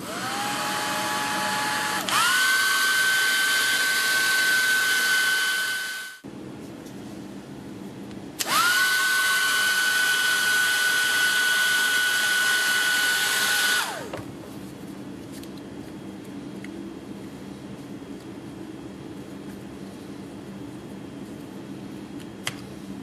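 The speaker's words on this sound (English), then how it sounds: "So here's my little hair dryer." A hair dryer blows loudly with a steady whining roar, switched on twice for several seconds each, with quieter room hum between and after.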